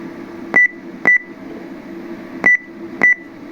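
Four short electronic beeps from a homemade temperature station for a rectification column, played through its sound amplifier at minimum volume, with two pairs of beeps over a steady low hum.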